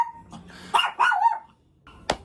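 A dog barks and yips in a few close, sharp bursts indoors, with a brief whimpering tone at the start and a final short bark after a pause.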